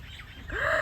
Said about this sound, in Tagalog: And then the birds are coming.